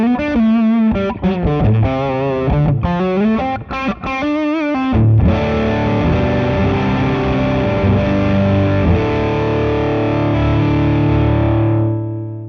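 A fuzzy, distorted electric guitar plays a choppy riff, then lets a thick, muddy chord ring out and slowly fade.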